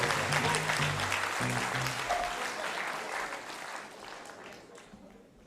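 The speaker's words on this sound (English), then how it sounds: "Let's give them a round of applause." An audience at a kirtan night at Bhaktivedanta Manor claps in a warm, steady round, a speaking voice underneath at the start, the applause gradually tapering off.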